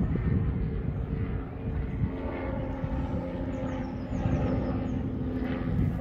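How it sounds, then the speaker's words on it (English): A helicopter drones overhead at a distance, a steady low engine rumble with faint rotor thrum that swells slightly toward the end. "And another helicopter."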